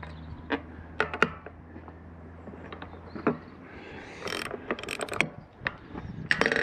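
A spanner working the adjustment on a hedge trimmer's belt cam, heard as soft ratcheting clicks and metallic taps close by, with some brief scraping handling noise.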